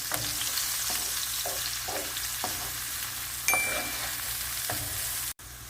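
Chopped onion sautéing with lamb in a pan: a continuous moderate sizzle with evenly spaced spatula scrapes and stirs, a brief clink near the end, no talk.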